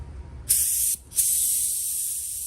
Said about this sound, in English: that is ready for spray black color over